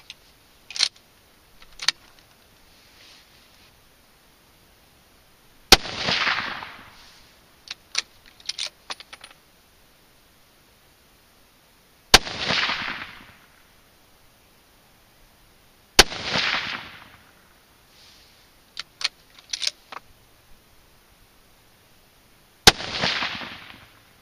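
Rifle shots from a .243 firing Sierra 95-grain TMK bullets over IMR4831 powder loads at a range, four sharp loud reports spaced several seconds apart, with smaller clicks and clatter of handling between them.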